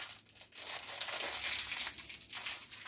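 Plastic packaging for an inexpensive jewelry item being pried open, a steady close crinkling and crackling that runs nearly nonstop with brief dips.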